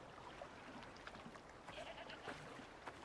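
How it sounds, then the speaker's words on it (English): A goat bleats faintly in the survival video game Icarus, a few short distant calls over steady ambient wilderness noise. "I hear a goat."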